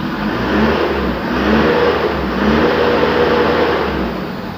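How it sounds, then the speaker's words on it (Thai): An Isuzu D-Max pickup engine, just started after a hard-starting fault, revs up in repeated swells, a loud close mechanical drone rising and falling in three or four pulses with no talk over it. "ตอนนี้เครื่องยนต์ติดแล้ว เร่งได้นะครับ"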